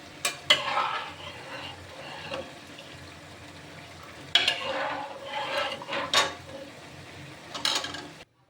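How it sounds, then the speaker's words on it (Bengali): Cauliflower florets in a pot of lentil dal bubble softly while a spoon stirs and scrapes, with a few sharp clatters and wet stirring bursts at intervals, no talk. "এবার আমি এই ডালের মধ্যে এই ফুলকপিগুলো দিয়ে দেবো"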